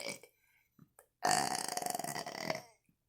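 One long, loud, rumbling burp after dinner, lasting over a second, comes after a few small mouth sounds in an otherwise quiet room.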